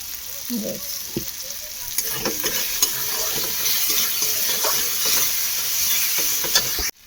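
Onion and tomato frying in oil with salt and turmeric, stirred steadily in a pan, a continuous close sizzle broken by the scrape and knock of the spoon, loud and alone without speech.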